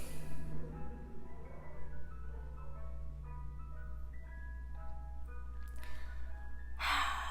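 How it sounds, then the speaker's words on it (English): An ice cream truck outside plays its tinkling jingle as a melody of bright tones, somewhat faint and distant, over a low steady hum, with soft breathy sounds nearby. "Y'all hear this loud ass ice cream truck?"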